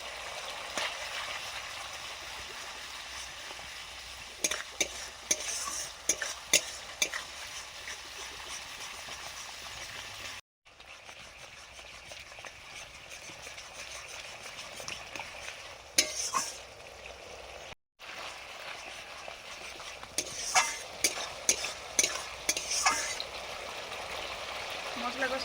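Cumin and coriander paste fries in a pan for a Bengali katla kalia, with a continuous sizzle and repeated spatula scrapes and clatters in uneven bursts, and a couple of brief pauses.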